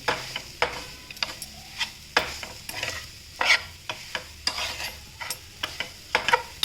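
Grated coconut mixture for kova holige stirred in a pan, a series of distinct scraping and tapping strokes roughly every half second over a faint sizzle, close and moderately quiet with no speech.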